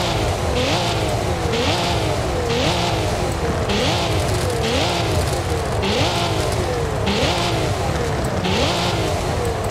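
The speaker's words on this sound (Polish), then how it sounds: "Mamy tutaj tylko jeden dźwięk wydechu." The exhaust of a Cadillac CT4-V Blackwing in Forza Horizon 5 revs repeatedly, each rise in pitch followed by a drop, in a steady rhythm of about eight rev cycles, loud and close.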